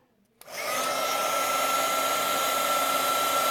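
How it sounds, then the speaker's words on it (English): A heat gun switches on abruptly and blows with a steady, close whooshing hum while heat embossing a paper heart, with no speech over it. "I've got my heart here, and I'm going to go ahead and heat emboss it"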